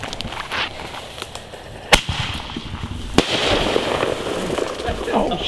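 Fourth of July fireworks set off outdoors, with two sharp loud cracks standing out over a steady crackle and hiss, while people talk in the background.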